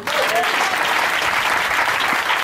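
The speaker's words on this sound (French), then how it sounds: "Est-ce qu'on peut acclamer le Seigneur?" Congregation at a French-language Sunday church service applauding the Lord, with steady, dense clapping throughout and a faint murmur of voices underneath.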